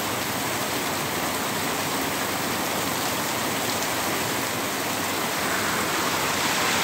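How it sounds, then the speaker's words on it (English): Heavy rain pours down in a dense, loud, unbroken hiss, like a downpour drumming on every surface, with no talking. "Even more rain."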